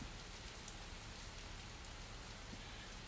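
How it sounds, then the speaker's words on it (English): Steady rain falls throughout, a dense, even hiss of drops hitting surfaces with no pauses, fairly loud and close, and no voices. "But the rain did not cooperate."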